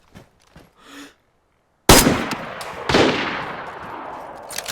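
Mosin rifle shots ring out in a DayZ match on a volcano map, two sharp loud cracks about a second apart, each trailing a long fading echo, after a few faint soft sounds and a brief silence.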